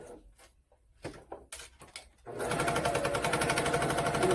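Muslin fabric being stitched for an aromatherapy eye pillow: a few handling knocks and rustles, then a sewing machine starts up and runs in a fast, steady, close-up whir.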